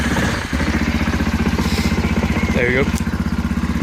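A Yamaha Kodiak 400 4x4 quad's engine catches with choke on and settles into a steady, close, pulsing idle with a rattly mechanical tone, while someone speaks briefly over it.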